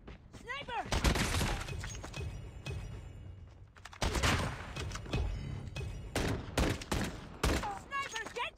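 Bursts of gunfire from a sniper attack crack out in rapid, overlapping volleys, loud and close, with people shouting amid the shots.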